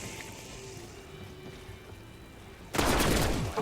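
A loud burst of gunfire erupts near the end of a Call of Duty zombies match on Liberty Falls, shooting at a bucket after a quieter stretch of ambient game noise.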